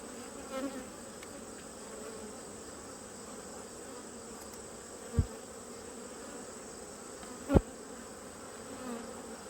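Honeybees give off a soft, steady hum during a hive inspection as frames are checked for queen cells, with a few faint knocks and clicks from handling the equipment.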